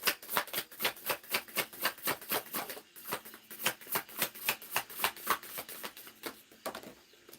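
Oracle cards riffled in quick repeated bursts, about two dozen crisp papery flutters in a steady rhythm, close and clear with no talking.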